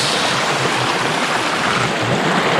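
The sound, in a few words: water spout at Watu Lumpang waterfall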